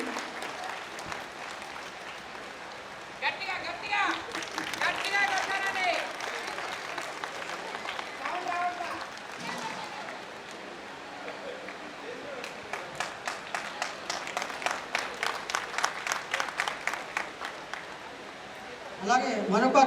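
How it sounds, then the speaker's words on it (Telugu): At a mandal Arya Vysya association swearing-in ceremony, the audience claps in several bursts to welcome a guest onto the stage. A presenter speaks over a hall microphone between and during the rounds of applause. "వేదిక మీదకి మన అందరూ చప్పట్లతో స్వాగతం పలకవలసిందిగా"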